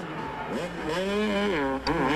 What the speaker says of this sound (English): listen to him run the throttle wide open